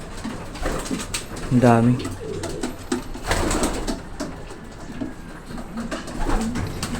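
Breeder stock pigeons in a fancier's loft give a clear rolling coo up close, with softer cooing and fluttering around it while someone speaks briefly over the birds.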